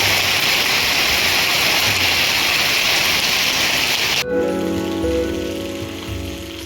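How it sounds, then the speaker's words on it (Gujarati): Heavy rain pours down in a dense, loud hiss for about four seconds, then cuts off abruptly, leaving quieter background hum and faint tones. "કેટલો ડેન્જરસ વરસાદ પડે છે હાલમાં"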